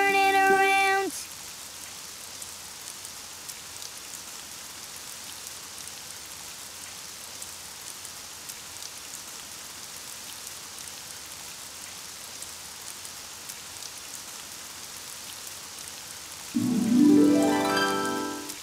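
Steady rain falls outside in an animated children's show scene, a soft continuous patter heard alone for most of the stretch, with brief musical tones at the start and end.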